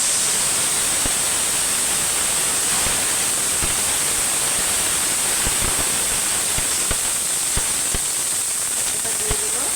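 A splash of water goes into a hot pan of fried onions for a poa fish curry, raising a loud, steady hiss of steam with scattered small pops and crackles throughout.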